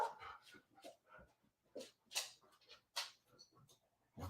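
An eager dog barking and whimpering to be let out late at night, a series of short yips and whines at moderate distance, fairly faint in a quiet room.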